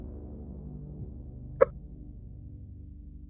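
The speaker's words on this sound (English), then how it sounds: "Hiccup." A single sharp hiccup sounds once at close range over a low steady hum, with no other sounds around it.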